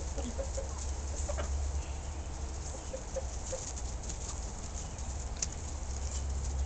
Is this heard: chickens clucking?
yes